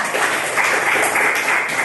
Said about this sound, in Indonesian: Tepuk tangan untuk Amanda